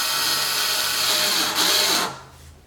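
A power drill drives a small screw back into a C6 Corvette headlight assembly, a steady high-pitched whir lasting about two seconds, then stopping abruptly, close up with no talk.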